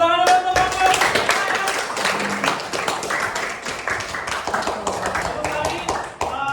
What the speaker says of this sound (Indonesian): Berikan tepuk tangan dulu untuk kelompok kita ya.